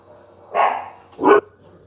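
Two short barks from a whippet at a moderate distance, spaced about half a second apart, with quiet in between.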